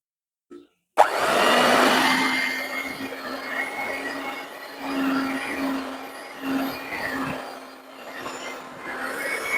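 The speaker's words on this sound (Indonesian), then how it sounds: "Kita mixer sebentar saja dengan kecepatan paling rendah." An electric hand mixer runs at its lowest speed through rainbow cake batter of flour mixture, a steady whirring drone with a slight wavering pitch, starting abruptly after a brief click and continuing close and fairly quiet.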